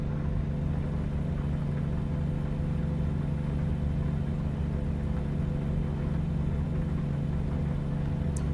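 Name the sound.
truck engine while driving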